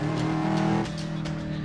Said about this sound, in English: Traffic's getting heavy.